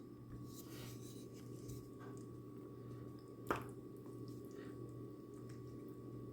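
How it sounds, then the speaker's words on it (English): Curry chicken fresh out of the oven bubbles faintly and steadily beneath a constant low hum, with one sharp click partway through. "We are fresh out of the oven, and this is what we're looking like. Still bubbling,"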